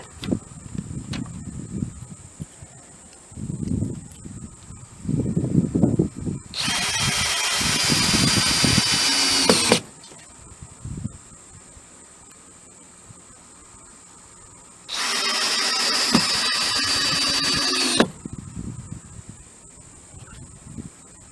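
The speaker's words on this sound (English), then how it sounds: "I'm going to drill this on in." A power drill drives screws into a wooden Adirondack chair built from 2x4s, giving two loud, sustained whirring bursts of about three seconds each, with quieter handling knocks and brief talk in between.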